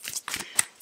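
Tarot cards riffle and slap together in a few quick, close shuffling bursts, crisp and papery, with no talking.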